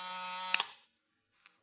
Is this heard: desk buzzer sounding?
yes